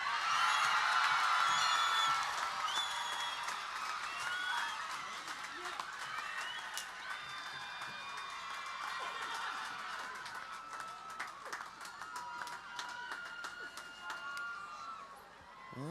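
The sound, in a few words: applause for a graduate at a graduation ceremony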